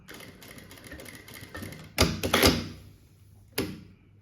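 A sewing machine backstitches at the end of a skirt seam, running with a soft rhythmic mechanical chatter before a few louder clunks and bursts of stitching, then a final knock near the end.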